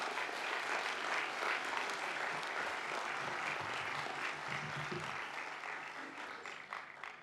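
An audience at the University at Buffalo 2025 commencement applauds graduates, with steady, loud, dense clapping across the whole stretch that eases slightly toward the end.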